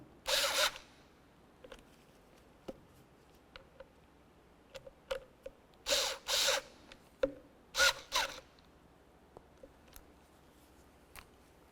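Screws being snugged down by hand on a 2005-2010 Chevrolet Cobalt heater blower motor: a few short bursts of ratcheting clicks and tool ticks, near and fairly quiet, separated by faint scattered taps.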